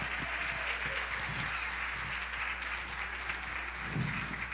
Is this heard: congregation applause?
yes